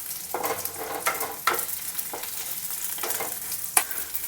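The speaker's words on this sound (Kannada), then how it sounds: "ಇದನ್ನು ಕೂಡ ಒಂದು ಮೂರು ನಿಮಿಷ ಸಣ್ಣೂರಿನಲ್ಲೇ ಮಾಗಿಸ್ಕೋಬೇಕು ಇದು ಮೆಣಸಿಕಾಯ್ದು" Green chillies frying slowly in a pan over a low flame, a quiet steady sizzle with a series of distinct scraping stir strokes at irregular intervals, close by and with no talking.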